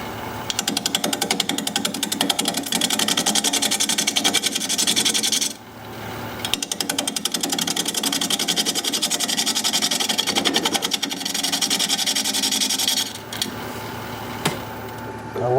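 A wood lathe spins at 670 RPM while a 5/8 inch bowl gouge cuts a wooden bowl blank with a loud, steady, rasping chatter that runs almost continuously, broken by a couple of brief pauses.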